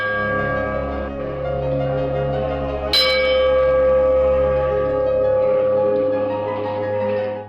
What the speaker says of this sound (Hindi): मंत्रमुग्ध करती मंदिरों में बजती घंटियां